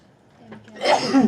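A single sneeze bursts out at close range after a brief quiet intake, sharp and short.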